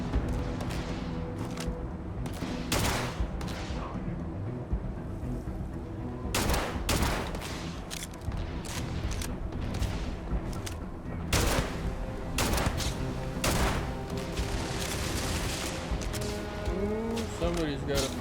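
Rapid bursts of video game gunfire from Starfield crackle repeatedly over several seconds, loud and dense, with occasional heavier blasts and crashes mixed in and speech present alongside.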